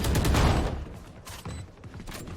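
Gunfire from a weapon's right-click burst in a Valorant esports match, starting with a loud rapid volley up close and followed by a few sharper single shots and sparser firing.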